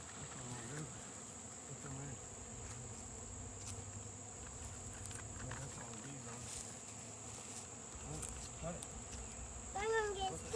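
Bees buzzing faintly around a working hive outdoors, with a high insect drone and occasional louder buzzes passing close, voices murmuring in the background.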